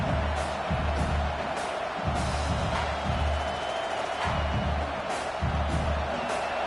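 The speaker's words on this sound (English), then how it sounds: "This crowd going to try to make life miserable for these guys" A college football stadium crowd at Nebraska versus Oklahoma roars in a dense, continuous wash of noise with rhythmic swells and pulses, loud and distant-sounding throughout.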